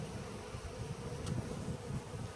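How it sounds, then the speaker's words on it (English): A steady, dense buzzing of many honey bees being installed into a long hive, continuous and fairly close, with no voices. "Now I don't know if you can hear these bees. That's an industrious sound."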